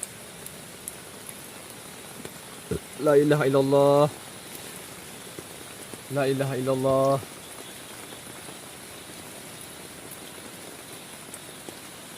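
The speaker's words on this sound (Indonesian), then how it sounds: "ini hujan makin lebat teman-teman nih" Steady heavy rain drums on a tent throughout at a riverside campsite, with a voice chanting twice in short melodic phrases over it.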